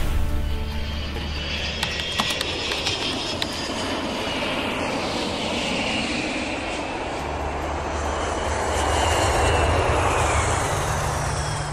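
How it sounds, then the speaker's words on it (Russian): Airplanes arriving at Tashkent international airport, a steady broad engine roar that swells slightly toward the end, continuous throughout with no talk. "Регулярно в международный аэропорт Ташкента прибывают самолеты из ближнего и дальнего зарубежья"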